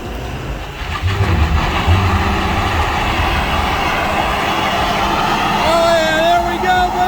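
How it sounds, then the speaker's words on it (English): A 2000HP billet V6 car fitted with a Honda K-series transmission doing a burnout, a loud sustained engine roar and tire noise that builds, with rising whine near the end and voices over it. "we have to test this brand new transmission with a big fat burnout"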